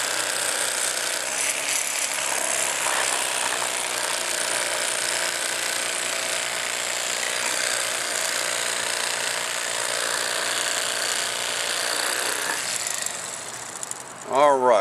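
Electric fillet knife running steadily through red snapper, a continuous buzzing motor whine held close and loud for most of the stretch, with a brief voice near the end.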